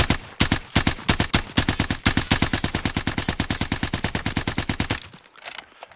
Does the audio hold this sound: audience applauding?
no